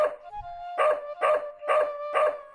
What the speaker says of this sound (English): you notice the dog has the extendo leash and follows you wherever you go